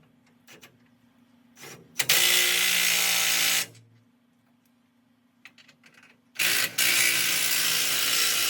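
Socket ratchet on a 1964 Ford F100 tightening bolts, two sustained bursts of rapid clicking, the first about two seconds and the second longer, up close with small clanks in the quiet gaps.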